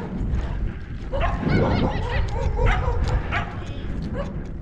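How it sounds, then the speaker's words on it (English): Dogs bark and yip close by while chasing cyclists near Gainesville, Texas, in excited overlapping bursts over wind and road rumble, with a person's voice mixed in. "we got some dogs to worry about"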